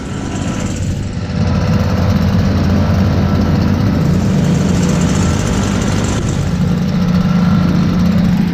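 Several small engines, a Husqvarna among them, idle together after a cold start in winter, giving a loud, steady, continuous drone. The drone holds for the whole stretch with no voices over it.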